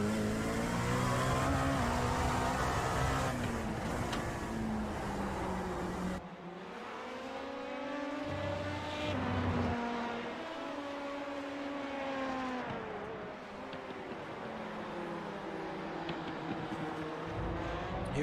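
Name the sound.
race cars in iRacing video game at Indianapolis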